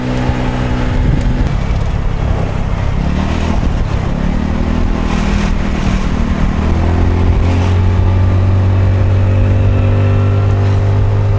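A Victoria Nicky 125cc classic scooter is ridden across the Ilsan Bridge, its engine droning steadily and rising in pitch as it accelerates, with a loud, continuous hum close to the rider over wind noise.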